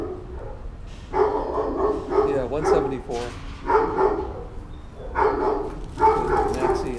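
Dogs barking in bursts in a PACC shelter play yard, several sharp, near barks recurring roughly every second or two, with people chatting over them.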